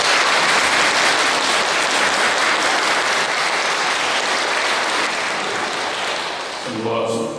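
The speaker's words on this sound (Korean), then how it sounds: "박수로서 환영해 주시면 감사하겠습니다" A church congregation at a Catholic Mass applauds in welcome for a visiting priest, loud, dense and sustained clapping filling the room, fading slightly near the end as a voice begins to speak.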